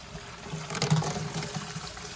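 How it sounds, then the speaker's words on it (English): Water runs and splashes steadily into a newly installed downspout drain, a continuous rushing trickle close by, with a slight swell in the middle. "You can hear the water."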